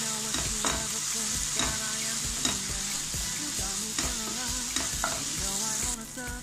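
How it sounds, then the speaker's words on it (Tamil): Masala stirred with a spoon in a sizzling pan for egg biryani, yogurt and a little water added, steady scraping strokes over continuous frying crackle, close and alone. "இது நல்லா மிக்ஸ் பண்ணிக்கலாம்"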